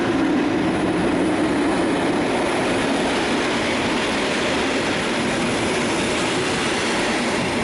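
A fast train rumbles steadily past at close range through Budapest Kelenföld station, a continuous loud roar of wheels and rail noise filling the whole stretch without voices.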